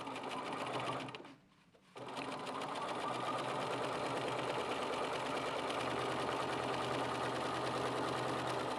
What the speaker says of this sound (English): you can continue sewing off the edge